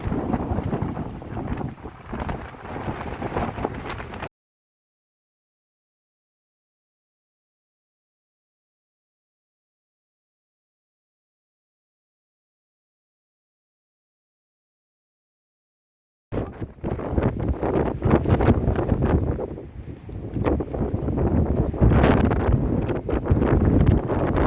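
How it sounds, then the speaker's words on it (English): Strong wind buffets the microphone on a clifftop along the South Downs Way near Birling Gap, loud rough gusting roar in two stretches separated by a long total silence. "it's pretty windy"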